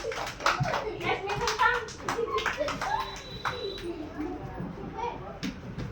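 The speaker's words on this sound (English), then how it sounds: "You clap." Children clap their hands in short bursts during a group physical activity session, the claps scattered under an adult's instructions and children's chatter, with birds cooing faintly in the background.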